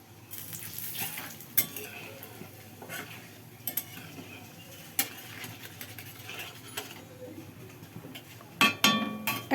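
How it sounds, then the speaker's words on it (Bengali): Cardamom, cloves, cinnamon and dried chillies temper in hot oil for an egg curry, a soft sizzle under light stirring scrapes and occasional clinks of a spoon against the pan, fairly quiet and close. "এলাচ, লবঙ্গ, দারচিনি, শুকনো লঙ্কার ফোড়ন দিয়ে একটু হালকা হাতে নেড়ে ছেড়ে"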